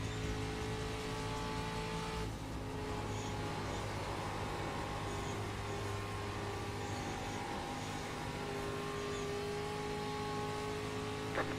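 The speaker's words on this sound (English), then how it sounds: "Faster car coming up quick." In the iRacing sim, a faster race car closes in quickly on a road course, its engine whine rising over a steady roar of other cars, with a sharp shift in tone partway through, loud and continuous with no speech.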